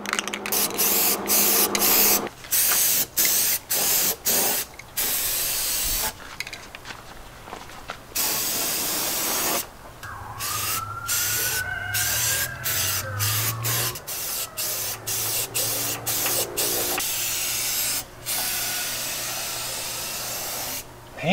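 Self-etching primer sprayed from an aerosol can onto a metal entry door for a skoolie, heard as repeated hissing bursts of varying length separated by short pauses, fairly close and loud.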